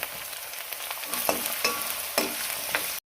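Crushed garlic frying in oil with a dense sizzle, broken by several scraping stirs, before stopping suddenly.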